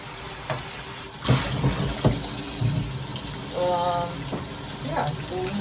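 Water runs steadily from a micro bubble shower head in the background, with splashing and clattering as the head is handled, and a short tonal squeak partway through.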